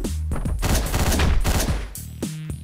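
Rapid bursts of gunfire from the top-down video game Hotline Miami crackle close and loud in a dense volley, framed by short tonal game sounds before and after.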